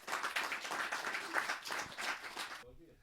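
An audience at a Hindi poetry gathering (kavi sammelan) claps steadily for about two and a half seconds, a dense wash of hands mixed with murmuring voices, before it cuts off abruptly.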